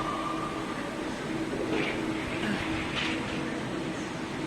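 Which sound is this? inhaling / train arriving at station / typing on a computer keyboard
train arriving at station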